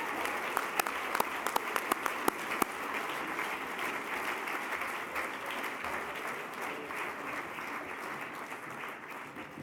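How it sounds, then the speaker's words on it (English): A crowd applauds at a construction industry achievement awards ceremony in Boston, steady dense clapping filling the room for about ten seconds, with a few sharp nearby claps standing out early on. "Would you please have a nice round of applause for Boston Properties' Adam Subber"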